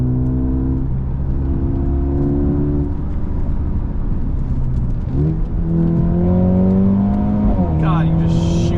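A 2020 Mercedes-Benz A35 AMG engine accelerates hard through the gears, its pitch climbing steadily, dropping at each upshift and climbing again, loud and close from the cabin with someone talking over it.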